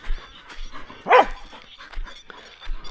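Pig hunting dog in the bush gives one sharp, high bark-whimper near the middle, with faint rustling and movement around it.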